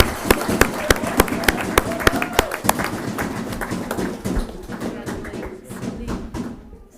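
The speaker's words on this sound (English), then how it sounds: "So round of applause and some drum for Brian Tomamichael." Round of applause with some drumming at a school board meeting: sharp rhythmic hits ring out clearly at first, then fade into a looser patter of clapping and voices.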